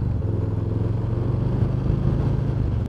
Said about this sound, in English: If I pull on the throttle just like the way I do on my Iron 883,